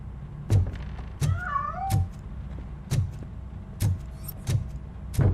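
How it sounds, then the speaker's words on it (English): A cat meows in the video game RoboCop: Rogue City, a short rising-and-falling cry near the middle, surrounded by several dull thumps and light knocks in a quiet interior. "That cat must be hiding inside."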